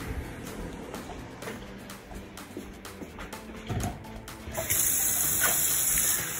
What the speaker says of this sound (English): I do one full scoop, whoop, spin, and then we add water.